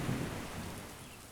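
Distant thunderstorm with steady rain, a low rumble of thunder swelling at the start beneath a continuous wash of rainfall, soft and far off with no voices.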